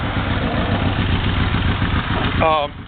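A Yamaha Venture motorcycle engine runs close by with a steady, throbbing mechanical drone as the rider downshifts while coming to a stop, ending with a brief change in tone near the end.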